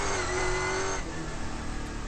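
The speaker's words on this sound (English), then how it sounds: "Listen to the car working hard." A V8 Supercar's engine labours hard at Wakefield Park, a loud sustained roar with the revs shifting partway through as the car is pushed around a slippery track.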